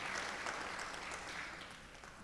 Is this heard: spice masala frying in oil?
no